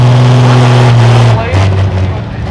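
A pro stock pulling tractor engine roars loud and close at a tractor pull, a deep sustained bellow whose pitch drops and wavers toward the end, with an announcer talking over it.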